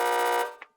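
A door buzzer on an entry intercom sounds one steady, loud electronic tone for roughly half a second, then cuts off, leaving a brief faint click.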